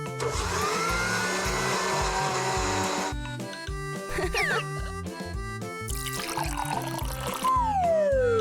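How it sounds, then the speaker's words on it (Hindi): A blender whirs loudly for about three seconds, then music with whooshing effects carries on as the motor noise comes and goes. "अब ब्लेंडर चलाते हैं।"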